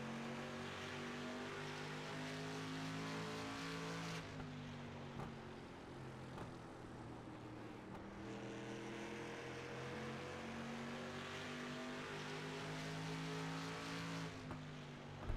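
Street stock race cars in a sim racing game at a New Smyrna speedway drone steadily on throttle, with layered engine tones rising and shifting in pitch throughout, continuous and loud with no talking.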